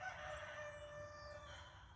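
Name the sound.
rooster crowing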